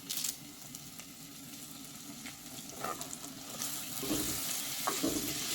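Curry leaves and onions sautéing in oil in a pan for a spicy breadfruit curry, giving a steady, fairly soft sizzle with occasional louder crackling bursts and stirring.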